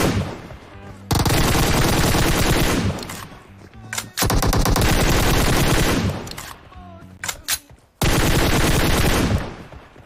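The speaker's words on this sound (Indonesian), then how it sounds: "Yang lain juga nembak." Gunfire in the PUBG Mobile battle game: loud, sustained automatic bursts that stop and start several times, with brief pauses between long stretches of shooting.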